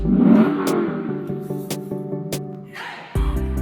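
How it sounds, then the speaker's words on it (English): A 2022 Lexus LC 500 Convertible exhaust burbles and revs close by, ending with a sharp, deep blip of the throttle. "It's all about the exhaust."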